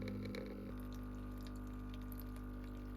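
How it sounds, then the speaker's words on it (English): A Tommee Tippee Perfect Prep machine draining its water, a steady low mechanical hum with a faint trickling wash over it that shifts tone early on and then holds evenly throughout. "this light is just to let you know that the water is being drained from the machine."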